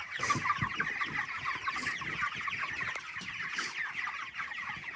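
Chickens in a group of 116, being moved from the brooder to the farm, cluck and squawk in close, busy bursts that overlap one another throughout.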